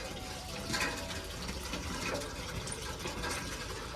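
Water from a tap pours steadily into a container at home, a soft continuous splashing rush with no talking.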